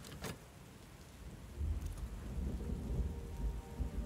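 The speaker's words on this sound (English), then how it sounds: "The cold comes first. Thunder growling." Thunderstorm with heavy rain in the video game Book of Hours: a sharp thunder crack near the start, then steady rain swelling into a deep rolling rumble that keeps building, with no voices.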